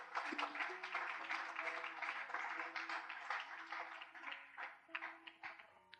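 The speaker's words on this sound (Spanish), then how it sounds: "Denle un aplauso a Dios por eso." A church congregation breaks into sustained applause, a dense, fairly distant wash of clapping that swells and gradually thins out.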